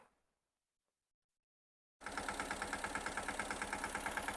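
After a couple of seconds of near silence, a Mahindra Yuvraj 215 tractor engine runs at a steady idle with a regular knocking pulse, close and loud, while powering a sprayer in a mango orchard.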